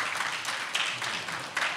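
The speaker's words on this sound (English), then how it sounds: "And we can all clap." A church congregation at a Sunday traditional worship service claps together in steady, moderately distant applause lasting a couple of seconds, with faint voices mixed in.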